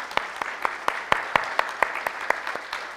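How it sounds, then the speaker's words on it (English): A church congregation applauds graduates at a Sunday worship service, with sharp, fairly regular claps ringing through the hall in a steady rhythm. "Would you give them a round of applause before they even get up here?"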